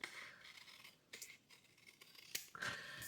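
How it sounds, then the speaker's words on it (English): Scissors trim paper for a handmade craft tag, giving a few faint, close snips and scrapes spread across a short, otherwise quiet moment. "But I need to trim this back just a hair."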